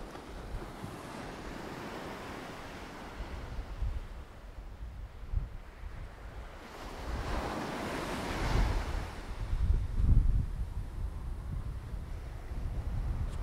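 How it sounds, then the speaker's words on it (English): Surf rolls in steadily on Worthing Beach in Barbados, a long narrow beach, with continuous wave wash swelling and easing, and wind buffeting the microphone, no voices. "I'm here at Worthing Beach"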